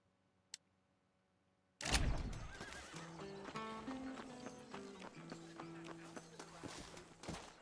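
A dark brown horse with a light mane in the video game Red Dead Redemption whinnies loudly after a brief quiet, then clip-clops along steadily at close range.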